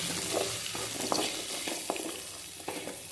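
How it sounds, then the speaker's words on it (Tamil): Coriander, cumin and black pepper sauté over a low flame in a pan for kuzhambu, making a steady moderate sizzle punctuated by periodic scrapes and taps of a stirring spoon, with no voices. "இது கூடவே ஜீரகம், குருமிளகு அப்படியே நல்லா வதக்கிக்கலாங்க"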